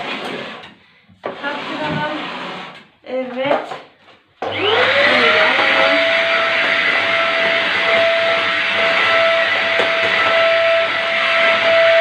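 A person talks briefly before a vacuum cleaner starts on a kitchen floor, then runs loud and steady with a high whine for the rest of the time.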